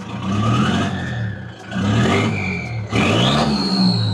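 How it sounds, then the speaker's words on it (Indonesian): A Mitsubishi Triton's 4D56 diesel engine with headers and a bigger exhaust revs hard several times, its deep throaty exhaust rising and falling in pitch, loud and close with a steady idle between pulls. "Suara khas 4D56-nya masih ada ya."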